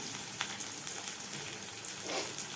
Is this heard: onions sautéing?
yes